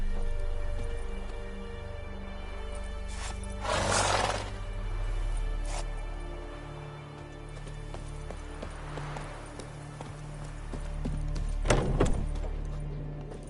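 Roach the horse gallops in The Witcher 3, a rolling stream of hoofbeats at moderate volume with a couple of louder, sharper bursts along the way.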